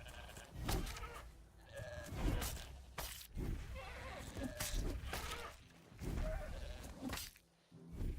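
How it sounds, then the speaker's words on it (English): Goat stampede in the medieval survival game Pax Dei, with repeated loud bleats and cries from several goats in bursts, close by and overlapping, across the whole stretch. "Holy smokes, is a goat stampede"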